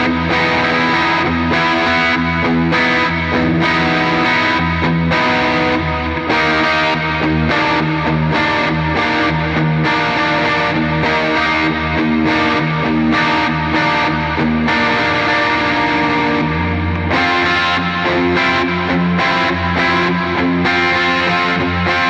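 Electric guitar through a Line 6 pitch block effect on a POD Go, Helix or HX Stomp, standing in for a capo: continuous, loud, distorted strummed chords with an effects sheen, and no voices.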